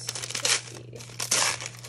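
Paper packaging from a DIY kit of pens and tweezers crinkles and tears as it is unwrapped, in two close, fairly loud bursts of rustling with a short pause between them.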